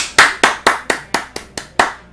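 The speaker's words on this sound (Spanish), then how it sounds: "Me aplaudo yo mismo." One person claps his own hands eight times in a steady, brisk rhythm, sharp and close, with nothing else audible.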